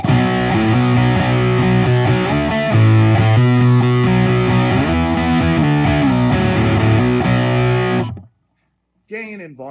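A heavily distorted electric guitar through a Fuzz Imp Sender V fuzz pedal plays sustained, saturated chords for about eight seconds, then cuts to silence before a brief burst of sound at the end.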